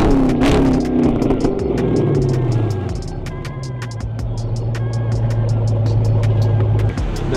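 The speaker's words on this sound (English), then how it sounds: "then I can put the switch on and I make noise with my exhaust" A loud car exhaust with its cutout open revs hard, then drops into a deep, rumbling idle, with sharp crackles and pops from the tailpipe.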